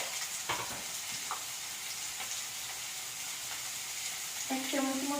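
Tomatoes with salt frying in a pan, a steady soft sizzle with occasional scrapes of stirring; a brief tonal clatter near the end.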